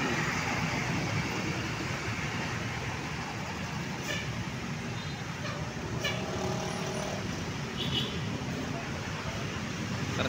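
A convoy of tour buses rolls into Cibaduyut, slowed by heavy traffic. Diesel engines rumble continuously at close range, and a few short horn toots cut through the steady road noise.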